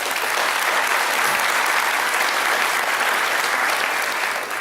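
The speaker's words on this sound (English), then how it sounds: "Let's give them a round of applause, please." A large audience at a Knox County budget presentation bursts into sustained applause, a dense, steady wash of clapping that holds at full strength for the whole stretch with no talk over it.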